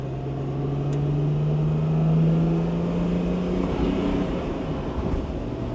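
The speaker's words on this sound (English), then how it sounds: "Wonderful straight six." A smooth straight-six engine in a 1970 Mercedes-Benz 280SL with a 4-speed hums steadily from inside the cabin, a low drone that rises slightly and settles, with faint road and wind noise.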